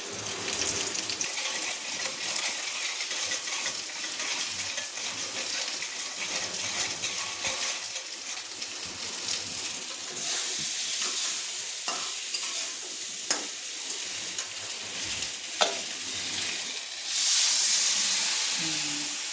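A spice paste of coriander powder and salt mixed with water fries for a fish curry, sizzling steadily and close. Occasional spoon scrapes cut through, and the hiss rises louder near the end.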